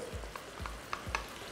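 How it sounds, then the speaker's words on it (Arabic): Chicken and onions frying in a pan with a steady sizzle, while a utensil stirs them in three or four spaced, scraping strokes, close and fairly quiet, with no talking. "دلوقتي هنزل بالبصل على الفراخ"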